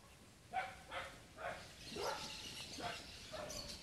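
A dog barks several times in a row at moderate distance, with short gaps between barks that merge into a looser run toward the end. No one speaks.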